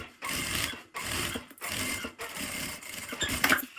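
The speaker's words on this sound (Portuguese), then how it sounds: "Vou começar a costura aqui na manta primeiro, pra alinhar bem, pra ela não andar depois, não sair do lugar." Sewing machine stitching through the padding layer of a phone wallet, running in four steady bursts separated by short pauses, close and fairly loud.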